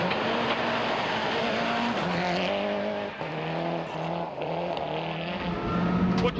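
A rally car at full speed through forest terrain on a British rally stage, its engine revving and shifting close up with tyres scrabbling and skidding, loud and continuous with no talk.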